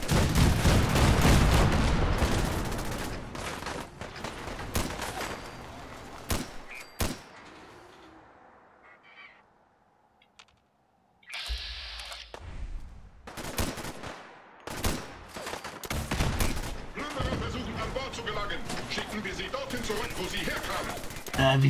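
Bursts of booming cannon fire and crashing gunfire in the game Fallout 4, loud and busy, dropping to a quiet lull midway before the barrage resumes.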